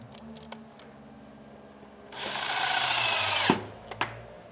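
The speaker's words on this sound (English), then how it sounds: "we're just going to drive 1 3/4 inch screw directly through the foot into the floor" Power drill driving a 1 3/4 inch screw through a booth foot into the floor, one loud whirring burst of about a second and a half, then a couple of clicks.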